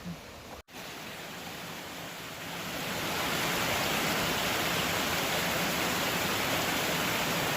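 Waterfall roaring as a broad, constant wash of falling water, steady and loud, swelling fuller after the first few seconds, with no voices.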